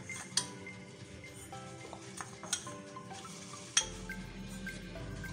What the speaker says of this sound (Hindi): अब मैं इसमें चीनी ऐड कर रही हूँ।